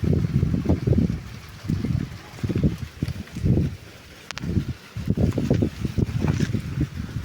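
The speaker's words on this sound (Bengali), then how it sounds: "এত হাওয়া চলছে, বাপরে বাপ" Strong wind gusts buffet the microphone in a home garden, coming as repeated loud, low rumbling bursts with short lulls between them.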